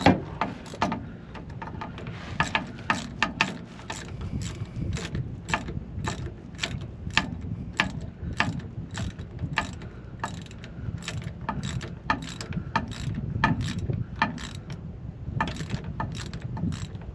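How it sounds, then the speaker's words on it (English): A ratchet wrench clicks steadily through repeated strokes during drive shaft repair on a 2012 Dodge Ram 3500, a long, close run of sharp, evenly spaced metallic ticks. "ratchet."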